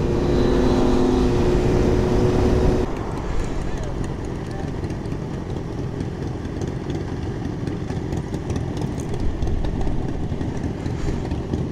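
A Harley-Davidson motorcycle engine idles close by with a steady low rumble, loudest in the first few seconds and then continuing as a dense, rough mechanical drone while people talk over it.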